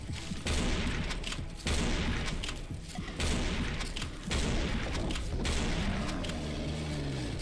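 Heavy gunfire in the video game Serious Sam 4, sustained bursts of shots striking repeatedly in dense, loud volleys with brief pauses between clusters, booming low thuds mixed in throughout.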